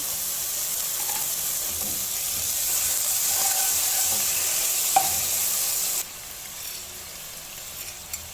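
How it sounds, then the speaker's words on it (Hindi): Soya chunks fry with garlic and ginger in a pan, a steady close sizzle and hiss with light stirring scrapes that softens near the end, no voices over it. "इसको हमने चंद सेकंड फ्राई करना है लहसुन अदरक के साथ भी"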